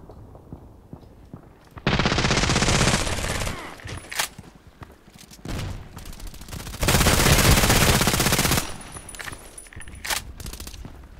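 H&K MP7 submachine gun fired in Contract Wars, loud sustained automatic bursts of rapid shots in two long strings, separated by a few shorter bursts and mechanical clicks.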